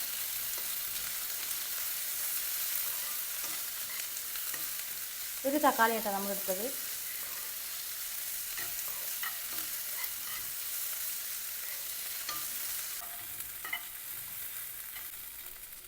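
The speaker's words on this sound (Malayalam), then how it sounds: "തക്കാളി കൂടി ചേർത്ത് നന്നായിട്ട് ഇളക്കി കൊടുക്കുക" Tomatoes stirred into a sizzling pan for a Kerala-style crab curry, with a steady low fry hiss and scraping of the spoon. A brief spoken phrase rises midway, then the sizzle continues alone.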